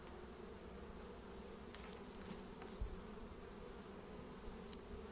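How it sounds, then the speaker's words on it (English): Steady, low insect buzzing from many bees close by, a constant hum that fills the whole stretch with a few brief soft knocks. "but there's bees working on it."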